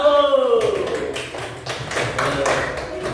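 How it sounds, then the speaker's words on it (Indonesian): Classroom students clap for a group after its presentation, a burst of uneven hand claps that starts after a brief tonal sound and continues at moderate loudness to the end. "Tepuk tangan untuk kelompok 1."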